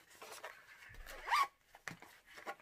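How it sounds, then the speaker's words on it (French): A WISKF tote bag's zipper is pulled open in one short, close rasping run amid faint handling noise. "on a une fermeture éclair ici"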